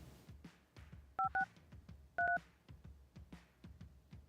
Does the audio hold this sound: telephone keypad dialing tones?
yes